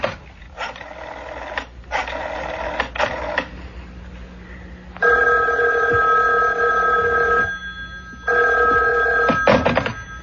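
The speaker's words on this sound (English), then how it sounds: "I made a grab for the phone." An old-fashioned telephone bell rings loudly in a radio drama, sounding in several long bursts separated by short pauses, with no talk over it.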